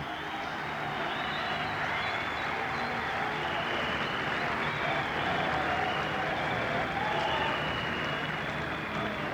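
A large crowd applauds steadily at the 1994 World Equestrian Games show jumping final, with dense, sustained clapping filling the arena throughout.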